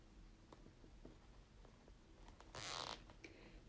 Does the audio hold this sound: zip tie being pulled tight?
yes